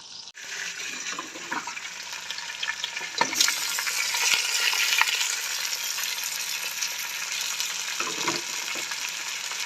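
Fish heads fry in hot ghee with a loud, continuous bright sizzle that swells after a few seconds and holds steady, with occasional pops and clinks of stirring close by; nobody speaks.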